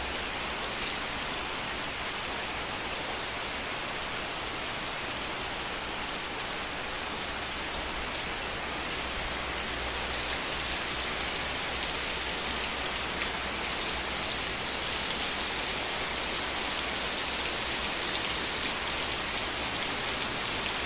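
Steady, dense rain falls on surfaces in the village of Povoado Sarandi, Goiás, Brazil, during a late-afternoon sun shower, a constant close hiss that continues unbroken and without voices.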